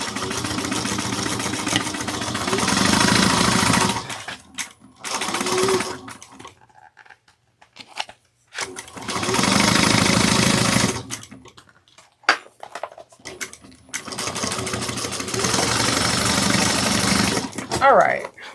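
Sewing machine stitching and backstitching a seam on a Silvia bag, in bursts of rapid steady buzzing separated by pauses, close and loud, with a person talking in between.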